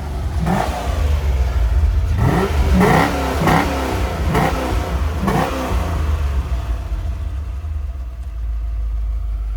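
A Corvette C4 with a 5.7 V8 revs loudly in a run of repeated sharp throttle blips, then settles back to a steady rumbling idle, close and alone with no talking.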